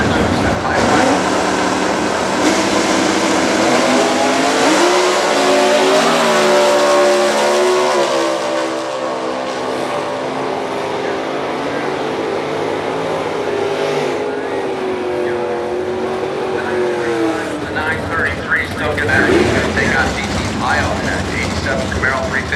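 Super Stock drag race cars, including a '67 Camaro, roar past as engines rev and wind up through the gears, loud and sustained. An announcer talks over the noise at the drag strip.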